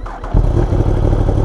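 A Yamaha R1M crossplane sport motorcycle engine catches after a brief crank and settles into a loud, rumbling idle close by.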